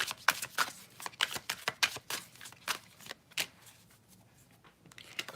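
Shadow oracle cards are shuffled and pulled by hand, giving a close series of quick riffling flutters and soft slaps in irregular bursts, with no talking.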